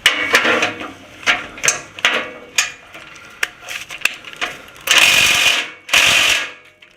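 A ratchet fitted with an extension works on fasteners through the skid plate of a 2016 Toyota Tundra 4.6L during an oil change, giving a series of close, loud clicking bursts in an uneven rhythm, ending with two longer harsh grinding stretches.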